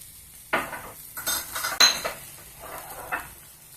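Raw banana pieces and sesame seeds tossed in a pan, a spatula scraping and clinking against the metal in several sharp strokes, with a faint sizzle underneath and no talking.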